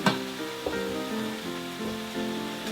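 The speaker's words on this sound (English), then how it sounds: "Once the leeks soften, you can add the sprouts." Brussels sprouts frying with leeks and bacon in a pan for a cheap Christmas dinner, a constant close sizzle broken by a few soft stirring knocks, with no talking.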